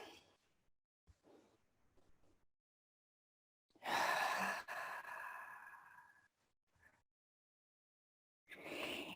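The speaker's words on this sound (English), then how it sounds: "go ahead and take another couple deep breaths." Deep breathing during a grounding meditation: a few soft, quiet breaths early on, then a long, loud exhaled sigh lasting about two seconds, a faint short breath after, and another strong breath at the end.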